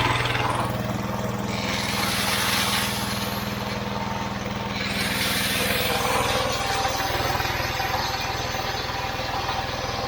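A walk-behind tractor engine runs a homemade generator, a steady, loud, close idling chug with mechanical rattle and a constant hum, unbroken throughout with no talk.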